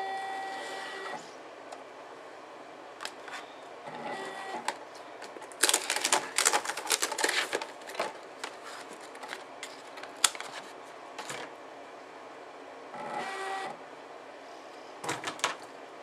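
A Boss Kut Gazelle die cutter feeds a chipboard sheet back out after cutting, giving bursts of mechanical clattering and whirring with quieter gaps between them, close by and without talk.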